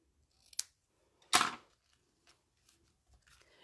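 Small scissors snip the ribbon ends on a handmade card in a quiet room, with a light first snip followed by a louder, crisper cut and a few faint rustles afterward.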